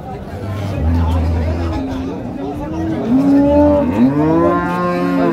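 Dairy cows and calves moo loudly and close by at a busy village cattle market, the Raniganj haat in Dinajpur, with several long, drawn-out calls. People chatter constantly around them.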